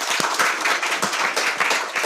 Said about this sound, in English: A round of applause for our panelists.